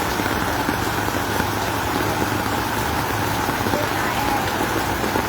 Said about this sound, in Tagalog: itong mga oras na ito ay napakalakas na ng ulan